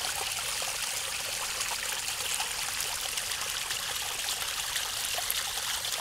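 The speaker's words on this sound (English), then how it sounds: "That's pure sewage coming out of here." Sewage water trickles and splashes continuously out of a sewer in Bardstown at a steady, moderate level, a constant dribbling flow with no voices.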